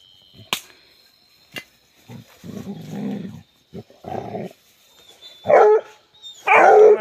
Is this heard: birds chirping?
no